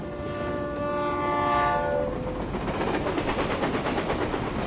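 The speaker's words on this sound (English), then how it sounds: "And why is the stupid train never on time?" A train arrives in the video game Reverse: 1999. A sustained horn blast leads in, followed by steady rhythmic wheel clatter and rolling rumble, loud and close, with no speech.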